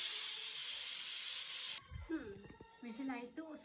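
A pressure cooker whistle on a gas stove lets off steam as a loud, sustained hiss that cuts off abruptly, followed by quiet kitchen clatter and soft voices.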